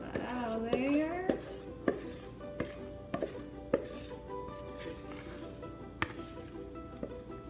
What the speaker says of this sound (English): now I'm gonna use the spoon. I'm gonna get some of that out of there.